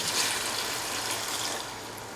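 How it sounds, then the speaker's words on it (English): Water poured steadily into a cooking pot for chicken stew, a soft, continuous splashing rush that tapers slightly toward the end, heard alone. "Pour in 3 to 4 cups of water"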